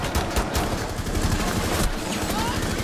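Gunfire in the video game Rainbow Six Siege during a police team's building assault: dense, rapid automatic bursts and sharp cracks run almost continuously at close range.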